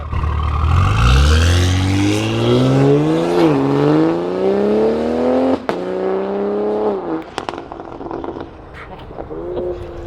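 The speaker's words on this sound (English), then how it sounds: "You guys heard full Catless setup, full exhaust system" A BMW with a Gen 3 B58 engine and full catless exhaust pulls hard, a loud rising engine roar climbing in pitch, dipping briefly at an upshift, then climbing again before easing off.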